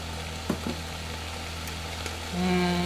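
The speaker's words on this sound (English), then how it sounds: "Listen to that bacon sizzle." Steady, crackling frying noise of bacon sizzling in a hot pan, with a few light clicks and a low hum rising slightly toward the end.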